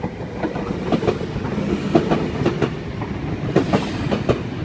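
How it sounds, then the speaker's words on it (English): A Sydney Trains V-set passes at Kotara, with steady rumble and rhythmic clickety-clack of wheels over rail joints sounding close and loud throughout. "And we have another VSET. V18 is the front four cars."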